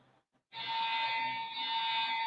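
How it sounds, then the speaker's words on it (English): A fire alarm starts abruptly after a brief quiet moment and then blares continuously with a harsh, steady electronic tone that stays loud to the end. "this fire alarm that won't stop"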